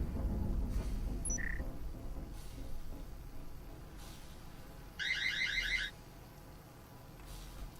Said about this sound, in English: There's a proximity alarm set off by Sauceman